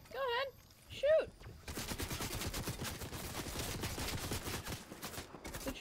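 Video game gunfire sounding as a rapid string of sharp shots that continues for several seconds after two short vocal sounds at the start, close and moderately loud.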